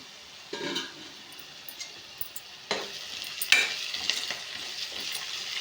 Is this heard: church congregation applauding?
no